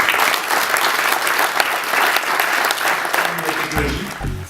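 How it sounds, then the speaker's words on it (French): Participants at the Actes Industries 2017 industry event applaud themselves in a loud, full burst of clapping. The applause thins near the end as a voice starts speaking over it. "donc vous avez le droit de vous applaudir aussi."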